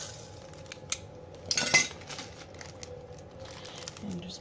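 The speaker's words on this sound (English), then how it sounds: "So I'm going to use half of a tablespoon of sandalwood." A spoon scoops half a tablespoon of dry sandalwood powder for a homemade sensual incense blend, giving a short burst of scraping and crinkling near the middle amid faint light clinks and rustles, close and fairly quiet.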